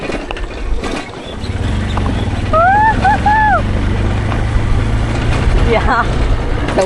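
A vehicle drives into a farmhouse compound, its low engine rumble rising and then holding steady close by, with people talking over it and a brief whistling tone partway through.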